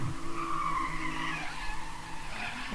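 A drift car at a street drift series event slides with a sustained tire squeal over a revving engine, loud and continuous throughout.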